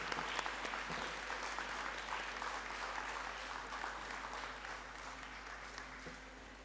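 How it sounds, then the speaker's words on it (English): Audience applause at an inaugural lecture, fairly quiet and somewhat distant, a continuous patter of many hands that slowly tapers toward the end. "Please welcome them with some applause."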